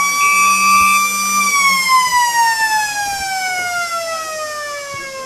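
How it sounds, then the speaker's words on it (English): A loud, sustained siren sounds for quarter time at an Australian rules football match in the Riverina, one long tone that slowly falls in pitch over several seconds. "As the siren goes for quarter time."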